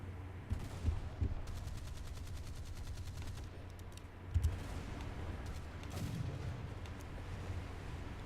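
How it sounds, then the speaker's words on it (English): Secondary guns of a warship firing in the War Thunder naval game: a series of dull booming reports and rapid mechanical rattles over a constant low engine rumble, no voices. "I'm not sure what my secondaries are firing at here, but they're firing at something, for sure."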